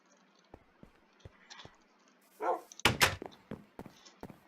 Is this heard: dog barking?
yes